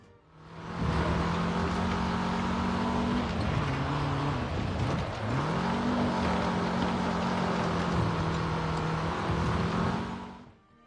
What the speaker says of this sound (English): The ginormous 7-litre naturally aspirated V8 under the hood pumps out an exceptionally respectable 435 horsepower